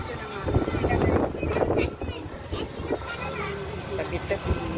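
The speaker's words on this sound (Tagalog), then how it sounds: "medyo mahangin ang aming lugar ngayon" Wind gusting hard across a microphone outdoors on a roadside trip home, a rough low rumble of buffeting under nearby talk and children's voices.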